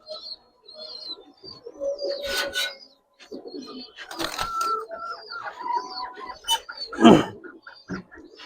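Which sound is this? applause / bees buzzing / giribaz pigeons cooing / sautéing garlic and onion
giribaz pigeons cooing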